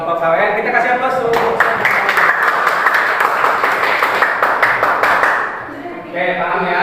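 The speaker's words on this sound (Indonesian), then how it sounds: "Kita kasih aplaus" Classroom applause for a student group, a steady burst of clapping from many hands lasting several seconds, with a teacher talking just before and after.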